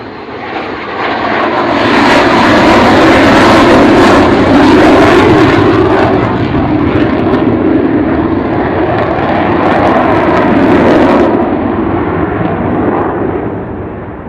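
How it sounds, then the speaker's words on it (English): Avro Vulcan bomber jet making a low overshoot and raising its landing gear, a loud, sustained, roaring engine rumble that swells and stays heavy throughout with no talk. "So here is Kevin and Pod bringing her in on the low overshoot, bringing the gear up again."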